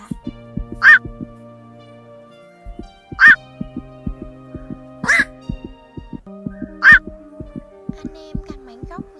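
A black-crowned night heron calling to its flock with four loud, harsh, evenly spaced squawks over a repeating background loop of clicks and tones, close and prominent.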